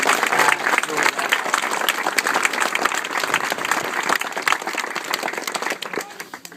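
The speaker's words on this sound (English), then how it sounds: "if I could just ask you to give a round of applause to Sean, all the building team here." A crowd at the opening of the Beamish Museum bakery breaks into warm applause for the building team, dense clapping with a few voices underneath that holds steady before tapering off at the end.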